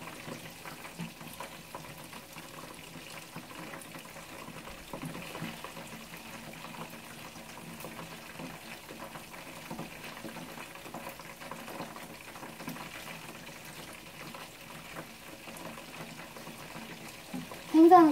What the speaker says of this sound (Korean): 여기서 이제 여러분들은 한 번 더 튀기셔도 되고